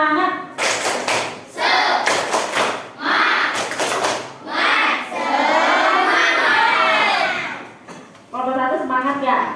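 A classroom of students performs a group spirit clap, bursts of rhythmic clapping in sharp patterned sequences alternating with children chanting and shouting together, loud and close.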